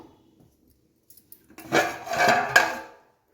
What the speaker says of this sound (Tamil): இப்போ குழம்பு திறந்து பார்ப்போம்